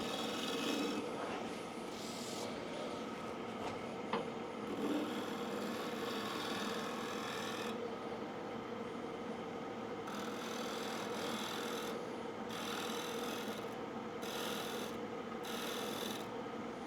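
A cherry bowl spinning on a wood lathe under a shear-scraping tool, giving a steady, continuous rasping scrape close up that holds at an even level throughout, with slight shifts in texture as the cut moves.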